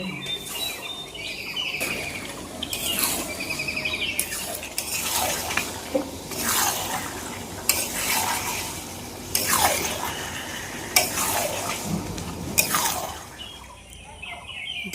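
A spoon scrapes around a pot of meat curry cooking on a home stove, with about ten regular stirring strokes, each a clear scraping sweep, over a steady low background of bubbling and kitchen noise.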